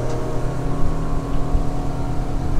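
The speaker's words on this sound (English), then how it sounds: "You can hear the boat ventilate, how tight I was turning there." A Yamaha 200 outboard engine on a 2016 Hewescraft 220 OceanPro drones steadily at close range, a low continuous hum with some rumbling and no voices; the propeller ventilates in a tight turn.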